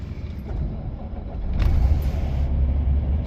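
Freightliner truck with a failing clutch, its engine a steady low rumble from inside the cab that swells louder about halfway through, with no talking.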